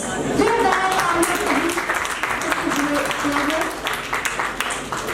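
Audience applause welcoming an honoured guest at a public civic event in India, a dense steady wash of clapping lasting several seconds, fairly loud, with a voice speaking over it.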